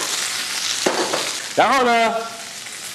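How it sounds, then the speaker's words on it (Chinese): Sesame oil with sliced ginger and garlic cloves sizzles in a pan for three-cup chicken, a steady broadband frying hiss running throughout while a voice speaks briefly over it. "先放胡麻油， 然后姜片跟蒜头仁。 稍微把它爆一下子"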